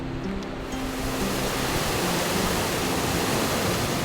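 A large waterfall in an Oslo city park roars as a loud, steady wash of falling water, constant throughout with no voices.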